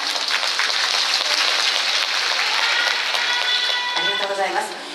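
A crowd claps steadily and densely in time at a Japanese dance performance, with music or voices faintly rising near the end as the clapping fades slightly.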